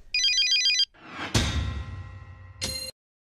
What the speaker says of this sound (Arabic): تليفون ويسوني تليفون ويسوني شكون اللي يعيط لك؟